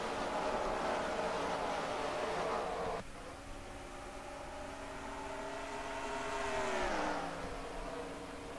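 Race trucks roaring past three wide on the Dodge Motordrome oval, engines loud and close, dipping sharply after a few seconds and then swelling again as the pack's pitch drops with the pass.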